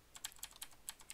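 Rapid light keystrokes on a computer keyboard as a command is typed, about a dozen quick, close clicks in an uneven rhythm, quiet and alone.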